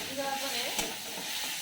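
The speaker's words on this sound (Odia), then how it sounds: "ଏବେ ପିଆଜ ହେଇସାରିଲାଣି ଏବେ ଟମାଟୋ ପକେଇଦେବା।" Tomatoes frying in a pan with browned onions give a steady close sizzle and crackle, with a spoon stirring through the food briefly.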